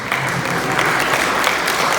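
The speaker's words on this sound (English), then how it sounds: "give him a round of applause" An audience applauds at a memorial service, sustained dense clapping from a room of people, steady and fairly loud throughout.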